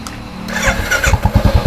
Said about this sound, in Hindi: तो सबसे पहले एक बार क्लासिक को स्टार्ट कर देते हैं।